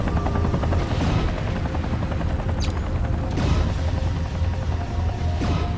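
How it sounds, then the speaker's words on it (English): Helicopters in the video game Mechwarrior 3, a loud continuous rotor chop throbbing steadily throughout, with occasional booming impacts and bursts of gunfire-like cracks over it. "Why is there choppers here?"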